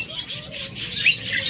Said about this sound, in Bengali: যে নটা কী সুন্দর নতুন কল দিচ্ছে